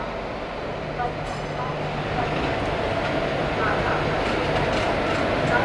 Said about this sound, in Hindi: वही है पटना काशी जनशताब्दी एक्सप्रेस